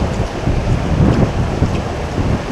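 Rain starting during a storm, a dense close hiss of falling water mixed with low gusty rumble and wind buffeting, continuous and fairly loud.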